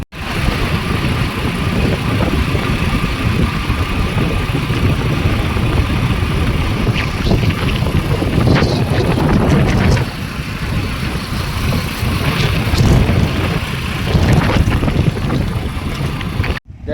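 A motorcycle engine drones steadily while riding on the way to a temple, with loud wind rush and road noise throughout, dipping briefly midway and cutting off at the end.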